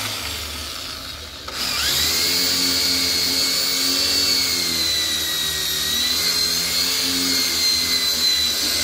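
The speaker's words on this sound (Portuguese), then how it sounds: "Vou parafusar aqui." A power screwdriver whirs as it drives a screw into wood for a small rose-bed fence, starting after a brief pause and running loud and steady with a rising, shifting whine.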